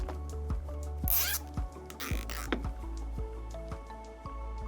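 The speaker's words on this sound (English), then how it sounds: "To keep things neat, I zip tied the two welding cables together with a trigger wire." Plastic zip ties ratcheting shut around a pair of welding cables on a car-battery 18650 spot welder build, two quick close zipping bursts over a steady background hum with soft clicks.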